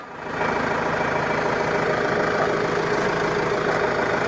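A tractor engine drags a box blade across a gravel driveway in low gear, giving a steady, loud mid-to-low rumble that holds even throughout with no voices.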